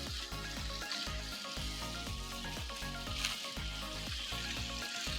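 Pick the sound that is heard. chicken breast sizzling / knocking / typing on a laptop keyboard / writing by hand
chicken breast sizzling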